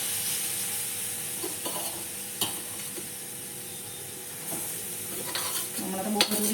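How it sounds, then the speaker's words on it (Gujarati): Grated beetroot sizzles and fries in hot ghee for beetroot halwa, a steady close crackle with occasional stirring scrapes and clinks of a spoon against the pan. "હવે આપણે આની અંદર આ બીટનો હલવો, છીણેલું બીટ આની અંદર એડ કરી દઈશું."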